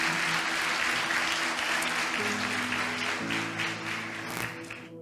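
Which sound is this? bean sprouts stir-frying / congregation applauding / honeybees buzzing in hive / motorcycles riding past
congregation applauding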